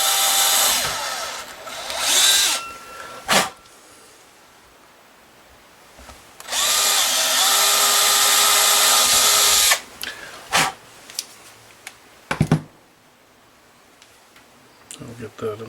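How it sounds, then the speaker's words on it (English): A small power drill with a 1/16 inch bit whirs in short bursts and one longer steady run, close up, with clicks and handling noises between, drilling a bone guitar nut on a Fender Telecaster. "Take that 1/16 drill bit again."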